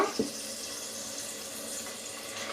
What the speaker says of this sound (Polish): Także ja już sobie zalewam zimną wodą.